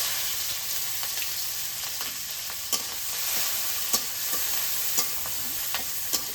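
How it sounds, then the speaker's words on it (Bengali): Cumin seeds, green chili and chopped onion fry in mustard oil in a village kitchen, a steady sizzle broken by a few sharp stirring clacks against the pan, with no talking. "তেলের মধ্যে দিয়ে দিই আস্ত জিরা, জিরা ফোড়ন দিই, কাঁচা মরিচ আর পেঁয়াজ কুচি দিয়ে দিই।"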